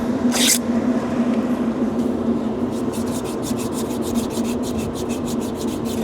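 Sandpaper rubs back and forth on an exhaust part during an exhaust upgrade, a close continuous scratchy rasp that turns into quicker rhythmic strokes toward the end.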